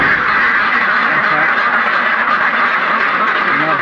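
A flock of domestic ducks quacks continuously up close, many overlapping loud calls forming a dense, busy chorus with no pause.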